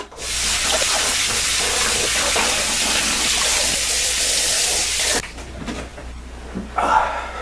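Water runs steadily from a tap while someone rinses off after shaving, a loud continuous splashing hiss lasting about five seconds before cutting off to quieter handling noises and small splashes.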